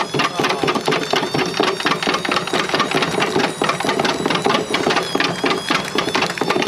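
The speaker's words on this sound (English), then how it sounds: "That's a hot motor. I can't believe it's still running." Overheating washing machine motor running hard with a brick tumbling inside, a loud, rapid rattling and thumping clatter over a steady mechanical drone, close and continuous.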